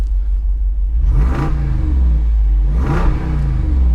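A 2022 Jeep Wrangler Rubicon 392's deep V8 revs twice with exhaust valves open, loud and throaty, each blip rising sharply then settling back to a rumbling idle, close by.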